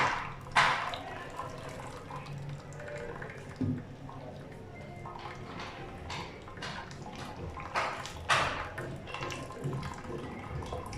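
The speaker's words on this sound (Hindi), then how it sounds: "पास्ता हमारा तैयार हो चुका है। अब हम इसको स्ट्रेन करेंगे।" Water splashes and gurgles in bursts as boiled pasta water pours through a strainer into a sink, with irregular drips and sloshes, fairly close.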